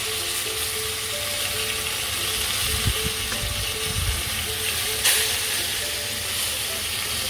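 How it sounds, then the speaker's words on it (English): Fish fries in hot oil in a pan with a loud, steady sizzle and hiss throughout, and a few faint clinks and stirring touches rise briefly above it. "let it fry on the other side as well"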